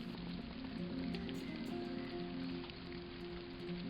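Steady rain patters down in an even, unbroken hiss, close by, with no voices.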